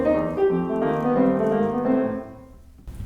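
Piano played in swing time with unequal eighths, a short phrase of sustained chords and lilting notes that fades out at the end, close and alone.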